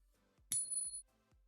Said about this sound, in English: That's the sound of real money.